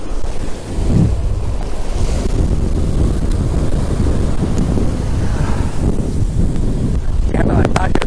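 Strong wind buffets the microphone over crashing surf on a fishing beach, a loud, continuous roar of breakers and gusts with no letup, and brief splashy bursts near the end.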